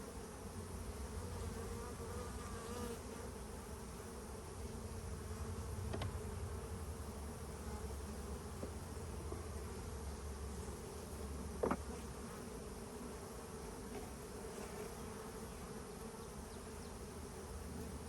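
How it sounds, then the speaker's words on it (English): A steady, dense drone of honey bees buzzing around an open hive during an inspection, continuous and even throughout, with one brief close tap partway through and no talking. "I feel her bee in my ear."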